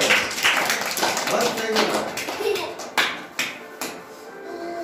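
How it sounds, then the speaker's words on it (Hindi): Children in a village primary school classroom clap their hands, a ragged patter of many claps that thins into a few sharp separate slaps, with voices speaking over it. "फिर ताली बजाओ उसके लिए"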